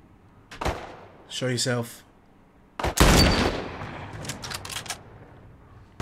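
Gunfire in The Last of Us, several sharp gunshots, an isolated crack then a heavy blast followed by a burst of rapid reports, mixed with game voices and a brief spoken line.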